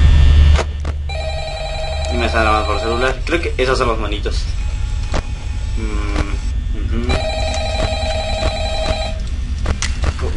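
Ringing bursts from a telephone in the Five Nights at Freddy's video game repeat steadily under someone speaking Spanish over them.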